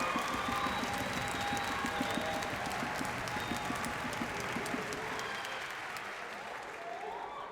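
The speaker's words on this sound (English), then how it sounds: "Let's give them all a round of applause." Sustained applause from a graduation ceremony audience at a high school, a steady dense clapping that fades gradually toward the end.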